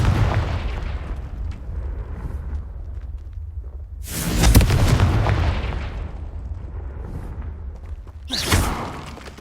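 A Confringo spell explodes in Hogwarts Legacy with a loud booming blast followed by rumbling debris, then a second sharp explosion near the end over a low continuous game ambience.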